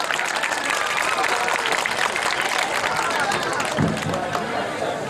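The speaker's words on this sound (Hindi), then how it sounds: "इनका इस्तकबाल तालियों से करें।" An audience at a stage event breaks into sustained, dense applause to welcome an arriving guest, loud and close, with crowd murmur mixed into the clapping.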